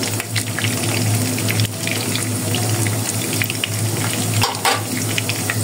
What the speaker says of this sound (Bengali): তো এখন একটু লাল করে ভেজে নিতে হবে।